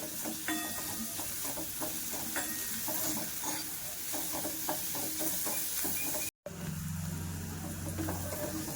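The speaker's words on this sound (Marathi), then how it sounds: "तिखट आणि हळद टाकते। मग छान कांद्यामध्ये छान परतून घेते।" Onions sautéing in a pan with chili powder and turmeric for a karela-style kartule vegetable dish, a steady close sizzle with frequent spoon stirs and scrapes, briefly cut off then resuming with a low steady hum.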